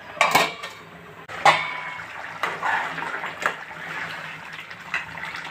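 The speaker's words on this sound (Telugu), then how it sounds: "మూత పెట్టేస్తున్నానండి, ఉడికేకా చూద్దాం" A lid is set onto a pot of chicken gravy curry, giving a couple of sharp metallic clinks followed by lighter clatter and faint rattling of cookware.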